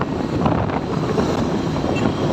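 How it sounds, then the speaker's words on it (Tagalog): Strong wind buffeting the microphone in a constant low roar, loud and close throughout, on a by-pass road in Pangasinan, Philippines. "mahangin siya."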